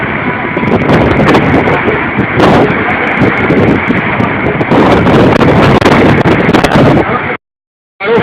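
Strong gusting wind storm in Matão, São Paulo, strong enough to bring trees down onto cars, roars loudly and continuously into the microphone for about seven seconds with buffeting bursts, then cuts to brief silence.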